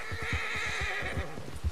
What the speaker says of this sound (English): The horse enjoys the horse stimulant.